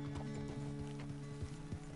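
Horse hooves clip-clopping at a steady walking rhythm in the Red Dead Redemption 2 video game, regular thuds over a low steady background hum, no talk.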